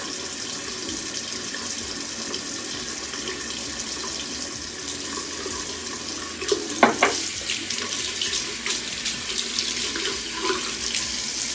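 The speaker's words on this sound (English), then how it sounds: "And rinse off." Tap water running steadily into a sink while face cleanser is rinsed off, a constant close hiss of flowing water with brief splashes and wet hand sounds partway through, no talking.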